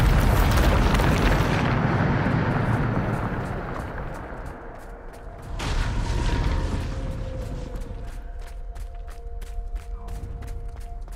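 A Bombarda explosion spell in Hogwarts Legacy: a loud blasting rumble that swells and slowly decays, with a second boom partway through, then creaking debris and scattered clicks as it settles.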